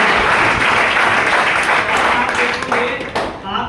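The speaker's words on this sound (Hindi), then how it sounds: "मैं चाहूंगा हमारी कंपनी के लिए एक बार जोरदार ताली" Loud, dense applause from a training-session audience fills the room steadily, then thins and fades toward the end.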